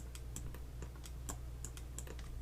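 Computer keys are pressed in a quick run of crisp, separate clicks during work in Blender 3D software, close and fairly clear over a low steady hum.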